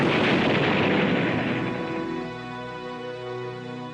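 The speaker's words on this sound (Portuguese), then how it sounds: "Quando a bomba explodiu" A briefcase bomb detonating in the 1944 Stauffenberg attempt on Hitler: one loud, close, rumbling blast that decays slowly over several seconds under sustained tonal music.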